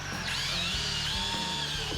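A power drill whines at high speed, pitch dipping and rising as it bites into a Ski-Doo REV snowmobile's tank cover, drilling holes through a template, continuous and close.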